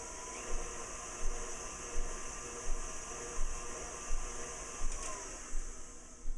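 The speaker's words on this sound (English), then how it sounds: "you can even put it on high and mix it up" An electric mixer runs on high, beating cookie dough with a steady, loud motor whir that surges in regular pulses about every three-quarters of a second, with no talking.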